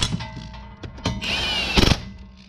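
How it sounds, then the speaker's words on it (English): A Milwaukee impact wrench on setting 2 with a 5/8 12-point socket tightens transmission bolts on a Mustang, giving short close mechanical bursts and clunks, then one sustained rattling run and a final sharp hammering burst. "got a 5/8 12 point on the Milwaukee on setting 2"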